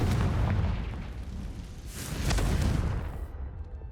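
A Confringo blasting spell going off in the Hogwarts Legacy video game, with deep rumbling booms that swell around the middle and then fade out toward the end, with no voices.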